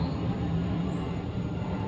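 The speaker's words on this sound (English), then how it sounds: "We got planes that fly over the house on a consistent basis, going to the airports." An airplane flying overhead toward the airports, heard from a house yard: a low, steady, distant engine roar that holds evenly throughout.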